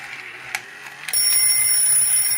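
Bell of a 1970s Palitoy Bradgate toy telephone struck by its hammer: a few light clicks, then a loud, bright ring that sustains steadily close by.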